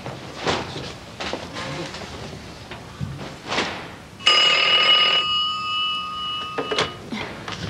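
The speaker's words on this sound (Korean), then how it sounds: "반장님, 백주임 전화입니다." An old-style telephone bell rings in one loud, steady burst of about a second, close by, amid scattered thumps and movement in a room.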